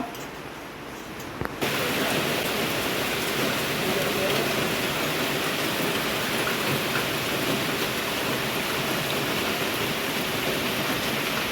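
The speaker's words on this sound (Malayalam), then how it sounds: "ഞങ്ങളുടെ നാട്ടിൽ രാവിലെ മഴയാണ്" Steady rain pours down for the whole stretch, a dense even hiss of drops on a hard surface after a brief quieter moment at the start.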